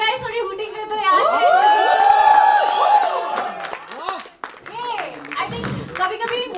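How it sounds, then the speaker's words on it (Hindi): Audience at the AUHAAM film trailer launch hooting and cheering loudly, with rising whoops and whistle-like calls over steady crowd noise and scattered claps, fading into mixed chatter. "Come on guys, थोड़ी हूटिंग कर दो यार"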